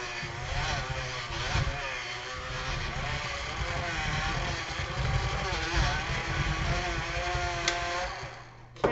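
A Flex Multi Prep Set electric mixer runs continuously while beating brownie batter, giving a steady motor whir with a slight wavering pitch that holds throughout, fairly close and unbroken by talk.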